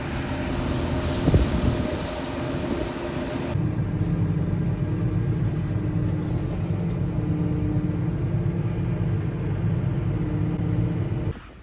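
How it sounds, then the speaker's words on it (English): Steady outdoor wind buffeting the microphone as a low continuous rumble, with a brief louder gust early on, continuing without talk. "Wind's just picked up quite a bit, so you'll be able to hear it right now."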